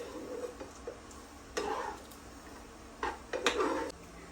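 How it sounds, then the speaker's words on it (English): Bacon grease popping in a frying pan on a medium-heat burner, faint irregular crackles and a few louder spattering bursts, with occasional clinks of a spoon against the pan. "So eventually this grease is going to stop popping and it'll just foam up."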